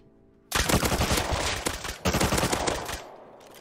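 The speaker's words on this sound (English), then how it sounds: "Nail gun's actually pretty nice. Getting that damage in." Rapid bursts of nail gun fire in the video game Rust, two long loud volleys of fast repeated shots separated by a brief gap, close and dense, trailing off at the end.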